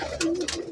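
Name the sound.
pigeons cooing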